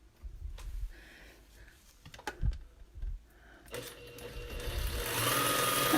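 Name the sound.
sewing machine running, pedal operated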